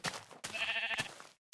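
A Minecraft sheep gives two short, close bleats, the second longer and wavering, ending in silence.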